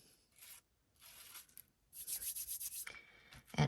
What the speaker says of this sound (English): I'm just kind of going around and blotting it with my fingers a little bit.